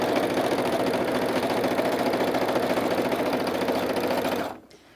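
A Brother sewing machine stitches fabric strips in a fast, steady mechanical whir close by, stopping abruptly near the end.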